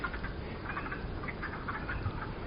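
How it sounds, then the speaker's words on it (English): A steady chorus of spring peepers and green frogs fills an outdoor wetland like a vernal pool on a warm spring day, dense overlapping trills and croaks with no voices present. "And you can also hear the green frogs croaking."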